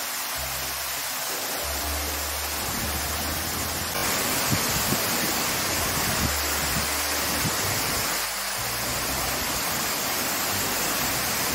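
Steady, loud rushing of falling water at Chinna Suruli Falls, Megamalai, fills the whole stretch, a continuous broadband roar with faint low thumps underneath.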